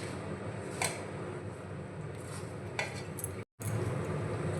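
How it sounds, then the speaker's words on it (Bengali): Hands work dry pakora ingredients together in a bowl: Kashmiri chili powder, salt, gram flour and rice flour with coriander leaves. Soft rustling and scattered light clinks sit at a low, even level with no talking. "শুকনো উপকরণগুলো একটু হাত দিয়ে মেখে নেব।"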